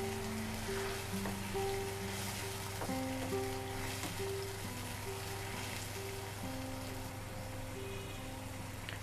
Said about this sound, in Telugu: ప్యూరీ చేసుకున్నాం కాబట్టి ఇది తొందరగా బాయిల్ అయిపోతుంది అనమాట టమాటా